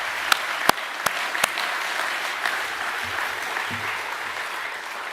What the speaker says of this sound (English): Can we give all of those people a big round of applause?